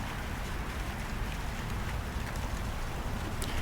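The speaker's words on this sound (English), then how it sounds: "it's starting to rain here" Rain beginning to fall outdoors, a soft, even hiss of drops spread across the scene, fairly quiet and steady with no voices.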